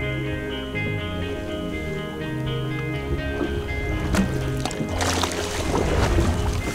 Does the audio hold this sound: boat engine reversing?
yes